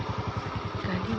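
Motorcycle engine idling or rolling in at a roadside bypass, a steady low throbbing pulse close by that runs through the whole short stretch without talk.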